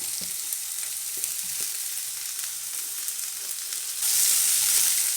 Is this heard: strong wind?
no